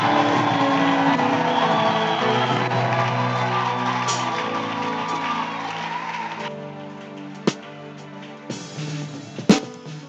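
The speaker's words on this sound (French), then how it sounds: "Acclame très fort." A crowd at an open-air religious crusade in Port-Gentil cheers and shouts loudly. The roar is sustained and mixed with music, then fades toward the end, broken by a few sharp knocks.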